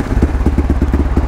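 Yamaha KLX motorcycle engine fitted with an aftermarket exhaust, idling or revving with a loud, steady low throb and rapid regular pulses, close up with no voices over it.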